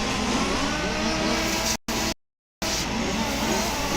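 A race car at Warm Springs accelerates hard on track during a club series race, a loud, close engine roar that cuts out abruptly twice before resuming.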